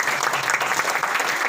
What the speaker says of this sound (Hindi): तो एक इस टीम के लिए विशेष तौर पर ताली।